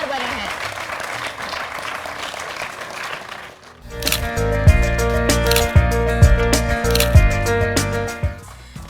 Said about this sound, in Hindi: तो जोरदार तालियां हो जाएं हमारे पहले किसान कप के हकदार के लिए